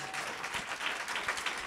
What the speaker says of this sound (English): Give one more hand for the performance.